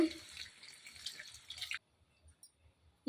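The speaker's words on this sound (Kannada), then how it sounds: "ಒಣ ಮಸಾಲೆ ಎಲ್ಲ ಫ್ರೈ ಮಾಡಿದ್ಮೇಲೆ ಒಂದು ಲೋಟದಷ್ಟು ನೀರು ಹಾಕ್ಕೊಳ್ಳೋಣ ಇದಕ್ಕೆ" A glass of water is poured into fried dry masala for a coconut milk chicken gravy, giving a close, bright splashing rush for under two seconds before it stops, leaving faint low knocks.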